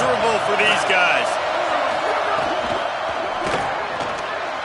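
Steady roar of a stadium crowd at a college football game, a dense wall of cheering and noise filling the whole stretch, loud and continuous with a few shouts rising out of it.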